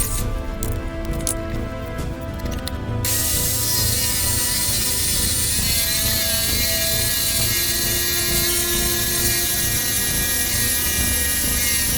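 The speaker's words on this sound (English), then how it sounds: "I also broke out my jigsaw to cut out two smaller circles for counter bin lids in the corner unit" A jigsaw cuts small circles for counter bin lids in a rustic kitchen build, running as a loud, steady whine throughout, with a choppier stretch at the start.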